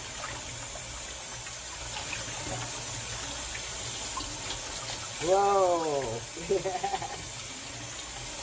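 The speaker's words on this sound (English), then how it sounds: "So we'll let the water keep going." A kitchen faucet runs in a steady, close hiss of flowing water while collard greens are prepared, and a voice briefly exclaims over it partway through.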